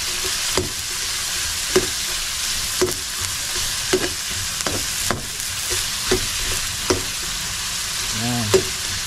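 Onions fry in hot oil in a pan with a continuous soft sizzle, punctuated by regular clicking stir or scrape strokes roughly every second, close and moderately loud, a brief low voice-like sound near the end.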